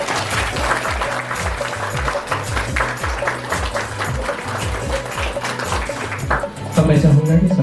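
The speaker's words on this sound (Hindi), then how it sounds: "ताली बजा सकते हैं।" Guests applaud at a Christian church wedding just after the ring exchange, with scattered claps running steadily under a rhythmic low musical pattern and growing a little louder near the end.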